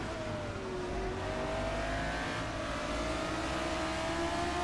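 Classic Formula 1 car engine in a racing sim, a steady loud drone rising gradually in pitch as it accelerates, with faint tire noise underneath.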